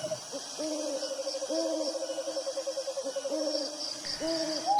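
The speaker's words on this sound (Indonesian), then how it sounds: "suara burung hantu yang menyeramkan" An owl hoots repeatedly in a steady series of soft, rounded calls, fairly close, over a quiet background hiss.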